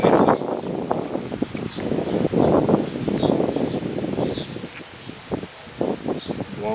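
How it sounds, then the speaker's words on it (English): Wind blows constantly outdoors with gusty rustling and buffeting against the microphone, loud and uneven throughout, with no speech. "And of course the wind's got to blow constantly."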